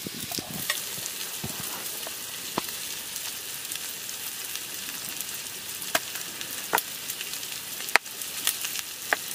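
Onions and tomato frying in a pan at an outdoor campsite cookout, a steady broad sizzle with occasional sharp scrapes and clicks of a spoon stirring, close and continuous, with no talking.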